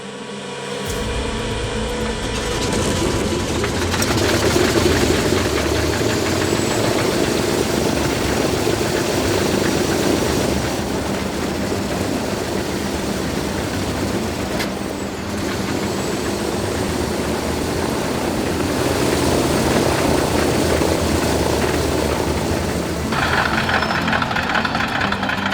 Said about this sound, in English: The tension was palpable as the engine rotated on its starter.